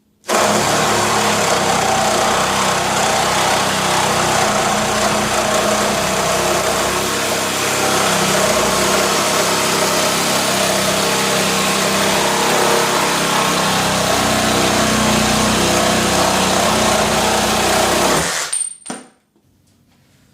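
A power saw bites through 1 1/4 inch galvanized steel pipe with 1/8 inch thick walls, giving a loud, steady grinding whine that runs unbroken for about eighteen seconds, then cuts off abruptly.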